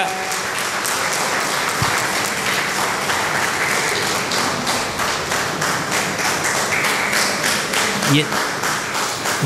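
Audience applause at a charitable trust's opening ceremony, a dense, steady wash of many hands clapping that holds for the whole stretch at a fairly loud, even level, with a faint murmur beneath.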